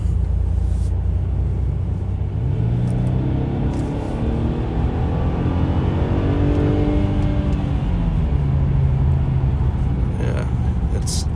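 A 2017 Mercedes E300 is heard from inside while driving, with a steady road and engine rumble and a gently rising engine note partway through under continuous cabin noise.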